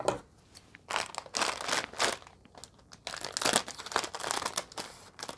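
Plastic packaging of Samyang Buldak fire noodle ramen crinkles and crackles in short close bursts as it is opened, with quiet pauses between handlings.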